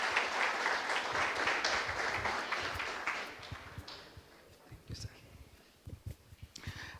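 Guests at a university international dinner applaud in a broad wash of clapping that fades after about four seconds, giving way to a voice talking over scattered remaining claps.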